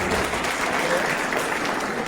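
An audience at an event in a medical college hall gives a short burst of loud, dense applause for a musician, steady throughout with no pause.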